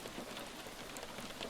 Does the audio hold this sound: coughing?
no